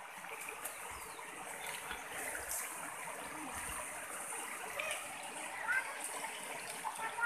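River water flows and trickles steadily around swimmers in a provincial river, a broad soft rushing wash with faint splashes and distant voices underneath.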